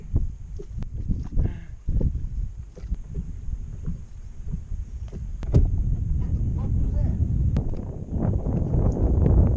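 Wind gusts across a grassy pond during bass fishing, a rough rumbling roar buffeting the microphone and rising toward the end, with faint knocks and brief voices in the background.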